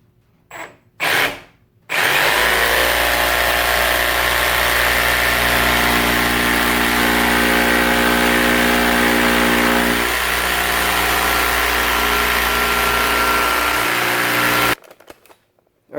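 A Milwaukee M18 FUEL D-handle jigsaw makes a plunge cut, a loud, steady motor whine with a reciprocating blade buzz that holds for about thirteen seconds after a few brief knocks, then stops abruptly.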